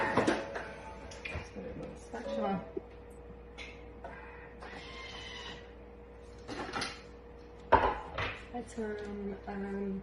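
A knife cubes cheddar cheese on a board, giving scattered sharp knocks and scraping clatter spread across the clip, mixed with kitchen handling noise and brief speech.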